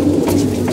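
A pigeon feeding on paddy gives a loud, close, sustained coo in one brief burst, with no other sound competing.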